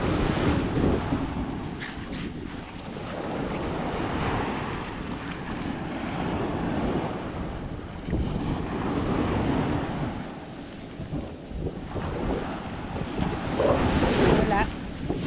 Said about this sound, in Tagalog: Kaso lang hampas naman ang alon